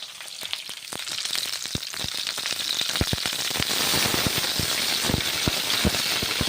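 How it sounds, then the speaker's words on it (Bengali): Loud, dense sizzling of cauliflower frying in a wok, a constant crackling hiss scattered with sharp pops of hot oil, close and continuous. "এখন কড়াইয়ের মধ্যে ছেড়ে দিচ্ছি। ছেড়ে দিয়ে কড়াইয়ে ফুলকপিগুলো ভেজে নিচ্ছি।"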